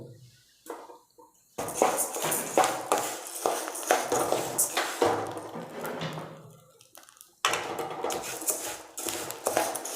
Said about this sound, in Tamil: நார்மலான தீ வச்சு நல்லா வந்து நீங்கள் பொன்னிறமாக வறுத்துடணும்